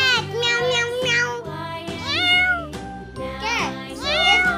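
A children's ABC phonics song in which a voice imitates a cat, giving several loud, close, sung meows in a rhythmic pattern over music.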